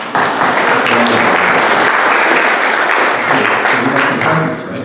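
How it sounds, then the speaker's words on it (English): A room full of people at a 30th anniversary celebration with praise singers breaks into loud, sustained applause, dense clapping holding steady from start to finish before tapering slightly at the end. "How about a round of applause for everybody who held the cards"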